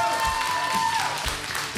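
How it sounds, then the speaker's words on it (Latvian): Studio audience on a karaoke TV show breaks into applause, a dense run of clapping with a few louder bursts heard throughout. "Aplausus."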